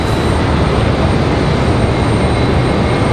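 A Delta Airbus A220-100 arriving at Raleigh-Durham airport makes a loud, steady broadband engine roar that holds unchanged throughout.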